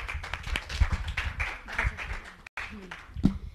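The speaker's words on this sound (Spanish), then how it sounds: "Un aplauso también para ella." A small group claps and applauds for a few seconds, with a voice murmuring briefly among the clapping.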